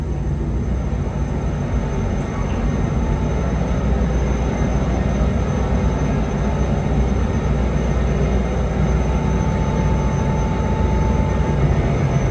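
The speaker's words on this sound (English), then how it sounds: "the crew takes the train to the Toronto Maintenance Centre" A passenger train runs toward the Toronto Maintenance Centre, a continuous loud rolling rumble of wheels and engine, steady throughout with no voices.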